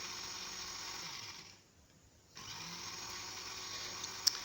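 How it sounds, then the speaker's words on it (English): A blender gives a quick pulse on a small batch of peppers, a steady whirring buzz that cuts out for under a second and then starts up again, fairly faint and with no talking. "I'm going to just do a quick blend"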